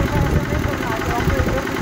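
A Giriraj power tiller engine runs steadily while the machine moves slowly backwards, a close, continuous mid-low rumble with a faint knocking beat.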